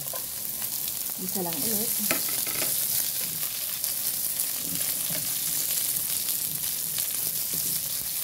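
White onion frying in a pan for fried rice made from leftover rice, a steady sizzle with stirring scrapes running throughout, close and fairly loud, while a voice speaks briefly near the start.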